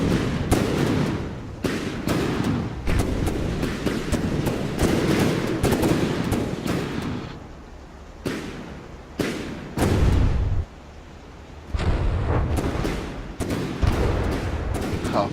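Tank cannon fire in the strategy game Fauxbi Offensive, heavy booming shots repeating in dense bursts with brief pauses, loud and close, with no talking.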